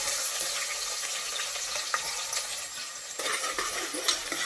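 Onions sizzle in salted oil with cloves, cinnamon and cardamom in a pressure cooker, a dense continuous frying hiss with occasional light clinks of stirring.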